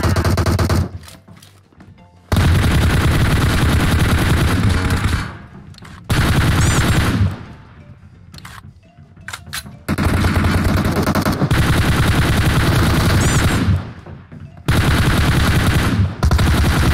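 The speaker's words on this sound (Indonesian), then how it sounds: "Oh siap-siap nih temen gue tembak nih" Loud, close automatic gunfire from a teammate in the battle royale game PUBG, long sustained bursts separated by short quiet pauses, repeated four times.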